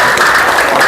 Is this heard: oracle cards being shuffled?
no